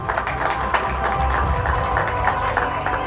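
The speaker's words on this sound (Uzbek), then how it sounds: "Qarsakinglar." Audience applause at a graduation ceremony, dense sustained clapping from a large crowd, loud and continuous throughout.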